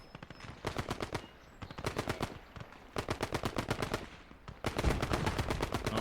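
Machine gun fire in the World War II game Gates of Hell Ostfront: loud, close bursts of rapid automatic shots, several separate volleys with short pauses between them.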